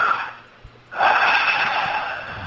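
A man imitates Darth Vader's heavy mechanical breathing, a loud raspy exhale that follows a quieter intake and holds steady to the end.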